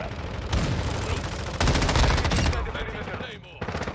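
Sustained automatic rifle fire in Modern Warfare 2, with loud, dense bursts of rapid shots in two main volleys, close and harsh, and a voice speaking faintly under the din.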